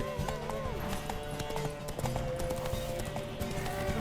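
Rapid horse hooves clop in a steady rhythm in The Witcher 3: Wild Hunt, with a voice speaking over them and faint game music beneath.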